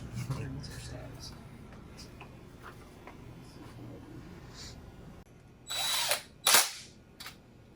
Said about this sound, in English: Gonna drill a 5/16 hole